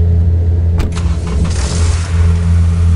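A car engine roars steadily throughout, with a sharp rev surge early on, then a sustained loud drone as the vehicle pulls away, alone without talk.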